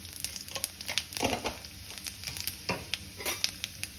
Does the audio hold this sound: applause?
no